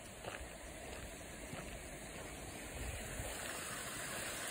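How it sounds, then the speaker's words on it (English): Steady rushing and splashing of a small waterfall, a continuous even water noise heard close by with no talking. "See a wee waterfall there."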